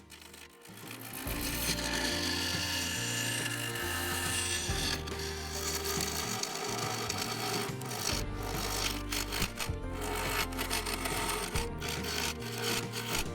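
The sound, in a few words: carbide tool turning walnut and epoxy resin on a lathe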